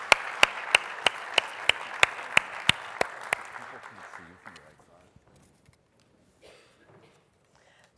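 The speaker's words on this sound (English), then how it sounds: "So if you could give them a round of applause," Applause for a panel being welcomed at a digital media summit town hall, a burst of audience clapping with sharp loud claps over the crowd that fades out over about five seconds into near quiet.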